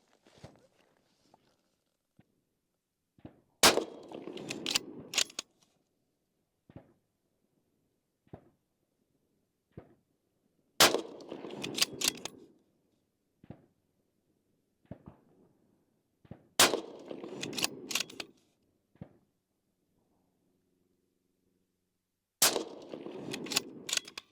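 A Remington 700 bolt-action rifle in .223 fires Freedom Munitions 77-grain rounds outdoors: four sharp, loud, unsuppressed cracks spaced several seconds apart, each trailing a short rumbling echo, with faint handling noises between.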